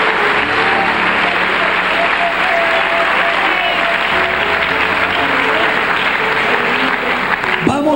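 A church congregation claps loudly and steadily for the King during a sermon, a dense, continuous roar of many hands with faint tonal sounds mixed underneath.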